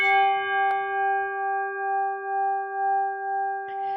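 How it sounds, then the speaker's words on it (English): A gong sound effect rings out in a talk-show stream, one loud struck tone with sustained metallic overtones that hum and slowly pulse for several seconds, with a brief click near the end. "Big gong coming your way"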